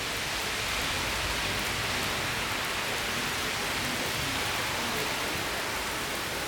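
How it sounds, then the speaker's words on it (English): Intense rain pours down during a severe thunderstorm, a dense, steady hiss of downpour that stays loud and unbroken throughout, with no voices. "You can see the rain, intense rain."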